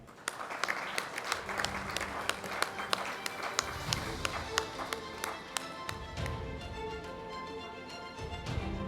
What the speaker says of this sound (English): Putting our hands together for our next award winner